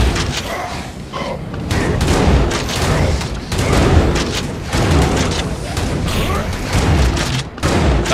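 Gunfire and booming impacts in the action video game Hellbound, a continuous, loud barrage of shots and thuds with almost no let-up.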